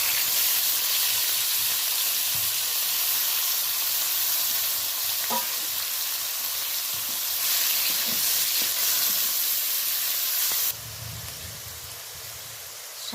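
Tomato, chopped green chili and grated onion frying in oil over cumin seed tempering for a spicy fish curry, a loud steady sizzle with occasional stirring scrapes, dropping to a quieter bubbling toward the end.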